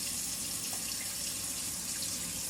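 Sprouting bird seeds rinsed under running tap water, a steady, close hiss of water pouring and splashing without pause.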